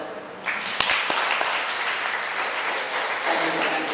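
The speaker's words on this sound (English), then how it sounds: "Can you clap for that?" A seminar audience claps together in a sustained, fairly dense burst of applause for a personal achievement, with a few sharper individual claps near the start and no voices over it.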